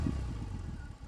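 A 2024 BMW R 18 Roctane motorcycle's big boxer engine rumbles low and loud up close just after starting, a deep uneven throb that dips briefly near the end.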